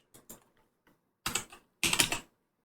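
Keyboard shortcut keys pressed while working in Blender: a couple of light taps, then two louder clustered bursts of key clicks, close and dry, with no talking.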